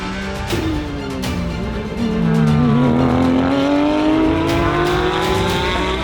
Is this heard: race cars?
yes